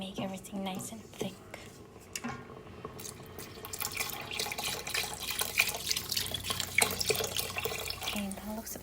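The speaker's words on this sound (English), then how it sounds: "now you can add however much liquid you want, because the red lentils definitely make everything nice and thick" Liquid is poured into a pot of thick red lentil coconut curry soup, a running, splashing pour with faint kitchen clatter throughout.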